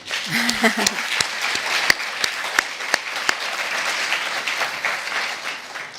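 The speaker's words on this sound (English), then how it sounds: "So why don't you applaud him?" An audience at a climate adaptation speech at the Global Center on Adaptation in Nairobi breaks into applause: a dense wash of clapping with sharper individual claps standing out, and a brief voice heard at the start.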